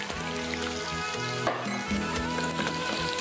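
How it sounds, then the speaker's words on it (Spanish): Potatoes sizzle steadily in hot oil in a frying pan in a kitchen, a continuous crackling hiss with occasional stirring clatter underneath background music, with no talking. "Ya estamos friendo también las papas."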